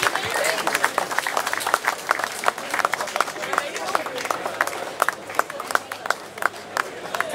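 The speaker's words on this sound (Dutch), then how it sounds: "Een applausje voor Axel, dames en heren." Applause for a cyclist at the podium ceremony of the Heusdenkoers men's road race: a crowd claps steadily for several seconds, fairly distant and moderate in level, while an announcer talks over it.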